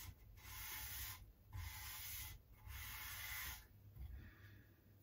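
A tusk guitar nut on a Squier Bullet Mustang is rubbed and sanded in several steady back-and-forth strokes with short pauses between them, close and quiet, with no talking.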